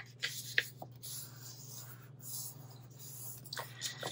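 One-sided craft paper being folded by hand, with soft close crinkles, short sharp crisp creasing snaps near the start, quiet rustling in between and a final burst of rubbing.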